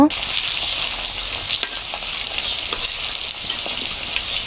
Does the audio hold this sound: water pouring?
no